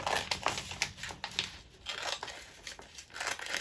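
Scissors snipping through paper while cutting out a bunting tag, a quick run of close, crisp crinkly cuts at a low level.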